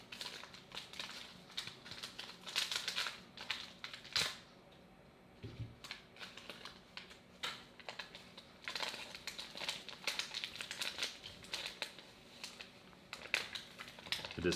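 A knife cuts open the plastic packaging of a Russian survival ration, giving close, irregular crinkling and crackling of the wrapper in bursts, with small clicks and handling noises and no talk.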